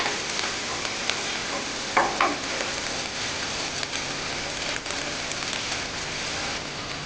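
Vegetables and chicken tip into a hot pan of garlic and onion for chicken Alfredo pasta, setting off a steady close sizzle with a brief clatter of stirring near the start.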